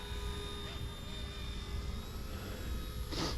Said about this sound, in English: Wow, that's a nice looking heli.